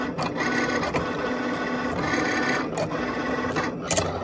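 A Cricut Explore Air 2 cutting machine slices through heavy cardstock, giving a steady, close mechanical whir and rasp that runs continuously with small ticks and shifts in tone, with no voices over it.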